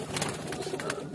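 A loft of around 25 to 30 breeder pigeons in Multan coos steadily and close by, their low, soft burbling overlapping without pause and with no talking.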